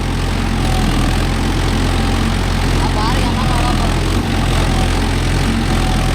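A Mahindra Yuvo Tech Plus 585 4WD tractor pulling a new cultivator through a field, its engine a loud, steady diesel drone close by with constant low rumble throughout, and someone speaking over it.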